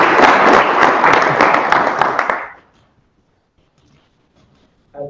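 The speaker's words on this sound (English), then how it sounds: "Applause, please." Audience at an annual membership meeting clapping loudly and densely for about two and a half seconds, then stopping abruptly into near silence, with a brief murmur at the end.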